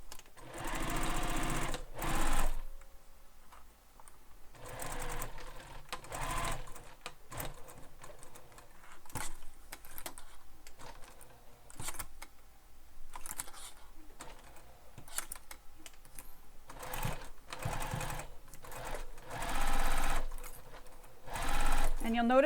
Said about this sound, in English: which was sew up the side